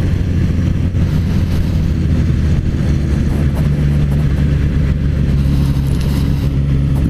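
A Suzuki GSX-S1000Z motorcycle engine runs loud and close with a dense, continuous low growl that holds steady throughout, with no talk over it.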